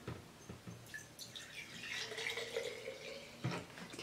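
Vinegar is poured for a sand volcano experiment, producing a soft, close trickle and splash of liquid with light drips, fairly quiet and alone.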